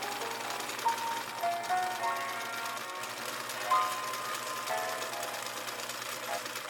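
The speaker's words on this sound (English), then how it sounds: "attach the two bodice pieces together with a straight stitch on each side and a zigzag stitch on the edges to prevent fraying" A sewing machine runs steadily, straight-stitching and zigzag-stitching two fabric bodice pieces of a long puff-sleeve top, a continuous mechanical whir that stays even throughout at moderate volume.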